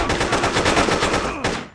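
Rapid automatic AK rifle fire in Hitman 2: Silent Assassin, a loud, close stream of shots in a steady rhythm for over a second, then a brief pause, one final burst and a short tail.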